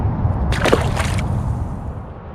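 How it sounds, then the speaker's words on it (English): A spotted bay bass splashes back into tidal water, a brief close slosh and splash followed by fading drips and gurgles. "Let's get this guy back in the water."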